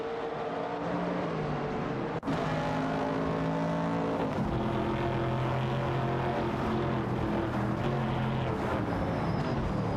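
Race cars in a video game contest, a Chevrolet Camaro and a Shelby Cobra among them, roar steadily with layered engine tones shifting pitch through gear changes, a sharp jolt near the start, loud and continuous with no voices.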